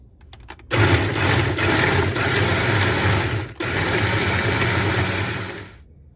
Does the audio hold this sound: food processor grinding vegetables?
yes